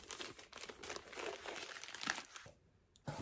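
Crinkling of tartan plastic wrap around a book being handled up close, a busy rustling crackle that drops off briefly near the end before one more crinkle.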